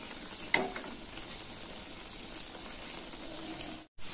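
Potato fritters for chat aloo frying in hot oil, a steady soft sizzle throughout with a few small pops and a brief stir near the start.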